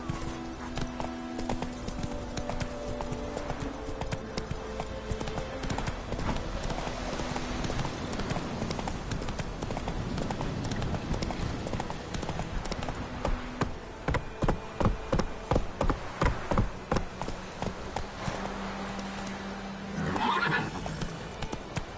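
In The Witcher 3: Wild Hunt, a horse's hooves clip-clop rapidly in a galloping rhythm that stays loud and close, with a sharp whinny breaking out near the end.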